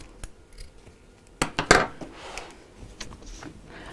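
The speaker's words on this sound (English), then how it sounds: "Then I can trim the end of that gusset" Scissors trimming the end of a fabric bag gusset, a few close, crisp snips clustered together with a soft metallic click in an otherwise quiet room.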